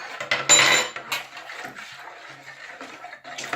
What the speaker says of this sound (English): I am really good at stirring.